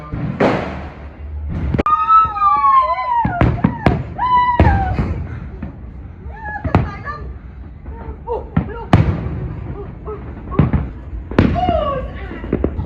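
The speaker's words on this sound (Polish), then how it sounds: "Ona się cieszy, że fajerwerki są." Fireworks bang and crackle in the distance, sharp repeated pops with some whistling rockets, while people talk and cheer nearby.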